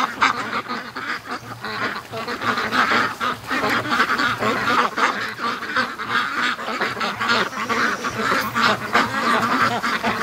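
Muscovy ducklings in a barn quack and peep continuously in a busy, overlapping chorus, heard close and fairly loud with no talking.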